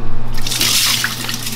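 Rinse water pouring and splashing as it drains from starchy white rice through a strainer for meal prep, a steady close wash of running liquid lasting the whole moment with a low hum underneath.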